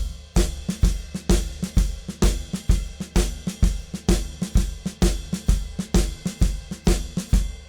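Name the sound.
drums: left-hand shuffle with swing ride cymbal pattern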